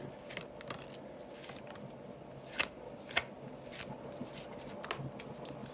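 Tarot cards are shuffled by hand and drawn from the deck: close, soft papery riffling and sliding with a couple of sharp card snaps, and no talk.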